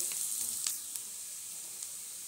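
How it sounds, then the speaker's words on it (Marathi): Onions for South Indian sambar sauté in a pan, giving a soft, steady hiss with a few quick stirring scrapes near the start, faint and close, with no voices. "कांदा हा आपण चांगला 1 मिनिटभर असा परतून घेऊ"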